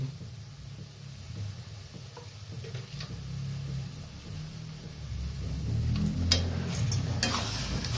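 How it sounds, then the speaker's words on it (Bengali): A carrot mixture with sugar and milk powder cooking in a pan for gajar rasmalai, a low muffled bubbling and scraping from stirring that grows a little louder toward the end, with a few light clinks. "ভালোভাবে নাড়তে হবে"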